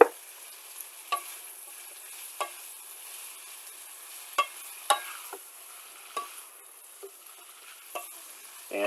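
Beans stir-fry in a pan with garlic and soy sauce, a constant close sizzle broken by regular clicks and scrapes of stirring.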